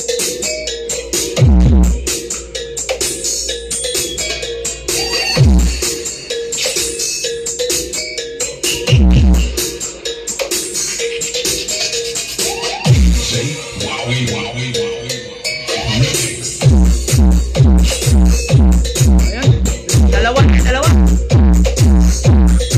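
A DIY J&E Mini 3-way speaker system plays loud music indoors, with rhythmic bass thumps, sustained tones and bright upper detail that fill the room and build into a dense, pulsing pattern toward the end.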